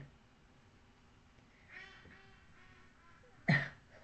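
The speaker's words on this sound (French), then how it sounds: "On entend mes canards." Ducks quack faintly in the distance with a few soft calls, then one sharper, louder quack near the end, over quiet background.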